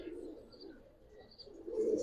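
Pigeons coo softly in a loft of many birds, a low murmuring call rising near the end, with no talk over it.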